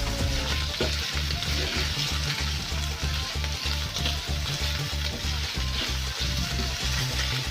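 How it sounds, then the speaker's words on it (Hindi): Loud, continuous sizzling of 200 g of chicken frying in oil in a hot pan, with steady stirring and rhythmic scraping running throughout. "अब इसमें हम अपना चिकन ऐड कर देंगे, ये 200 ग्राम है, इसको अच्छे से मिक्स करेंगे ऐसे।"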